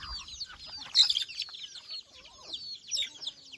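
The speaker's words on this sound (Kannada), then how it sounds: "ನೋಡಿ ನೀವು ನಮ್ಮ ನಾಟಿ ಕೋಳಿಗಳು" Several native country chickens cluck and chatter close by in short, overlapping calls, with no talking.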